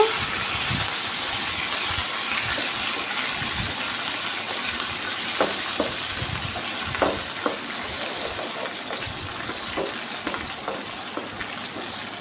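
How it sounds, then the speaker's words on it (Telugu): Tempering spices with curry leaves sizzle steadily in hot oil for a chikkudu pesarapappu fry, a constant close hiss dotted with small pops and occasional stirring clicks. "పోపు ఈ విధంగా పర్ఫెక్ట్గా వేగాలి"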